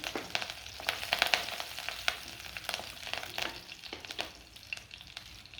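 Small pieces of ginger and green chilli fry with mustard seeds in oil, a moderate steady sizzle broken by repeated crackling pops and stirring clatter throughout.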